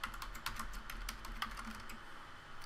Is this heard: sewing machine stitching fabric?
no